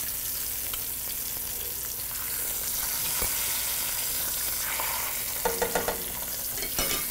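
Food frying in a pan is stirred. A constant dense sizzle runs throughout, with a few scraping strokes and quick clinks of the utensil near the end.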